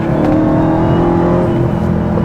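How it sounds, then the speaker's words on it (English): A Dodge Charger Hellcat Widebody's engine roars steadily at full throttle on a mountain road, a loud, continuous, close-up drone with no pauses. "Full throttle there."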